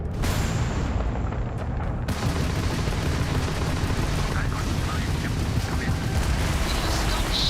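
Ship weapons fire in a space battle in the Starfield video game, a loud, dense and continuous barrage of booming blasts and rumbling that holds steady throughout, with the roar slightly thinner for the first two seconds.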